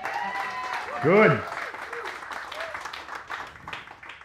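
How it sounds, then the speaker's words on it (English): Audience applause greets the comedian Michael Ian Black on a live morning talk show, a broad wash of clapping under a host's speech, swelling briefly before the talk carries on. "How about a round of applause"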